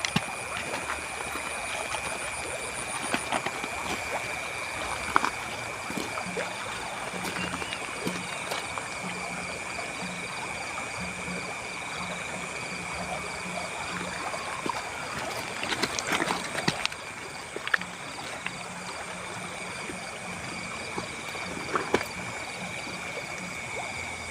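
A river flows through the campsite as a steady, close broadband rush with a few brief louder surges, joined by a thin constant high tone and occasional frog-like calls, with no voices.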